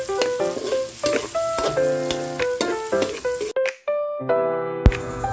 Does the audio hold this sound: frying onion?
yes